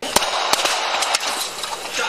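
Gunshots from a man firing at Sacramento police on Lemon Hill Avenue, captured on a police car dash cam: several sharp cracks, some spaced and some close together, over steady background noise.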